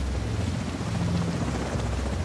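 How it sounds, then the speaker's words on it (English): In The Division 2 video game, a helicopter arrives with a loud, close, continuous rotor roar and low chopping thrum that holds steady throughout, with no talk over it. "They got a chopper!"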